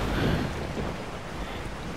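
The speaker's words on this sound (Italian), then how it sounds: "sta pioggia" Rain falling in the video game Resident Evil 4, a steady broadband hiss of downpour with a low rumble that sounds like thunder, continuous and fairly loud with no talk.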